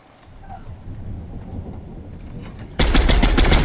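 Fortnite gunfire from a duo match: after a stretch of low rumbling game ambience, a loud, dense burst of rapid shots erupts near the end and keeps going to the close, with no talk over it.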